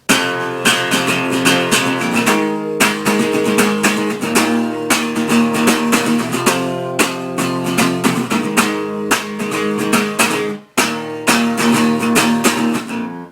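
Bright, rhythmic strummed acoustic guitar chords ring steadily with regular accents, briefly cutting out near the end before resuming; no voices.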